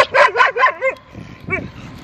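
A dog barks outdoors during a nighttime walk, four quick loud barks in a row followed by a short pause and one more bark, close to the listener over quiet street noise.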